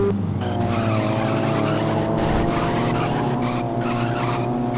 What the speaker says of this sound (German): Klingt sehr knackig, der Wagen.